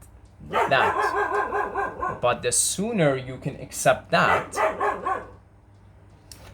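A dog barks at close range in a few quick bursts alongside someone talking, the barks mixing with and partly masked by his speech.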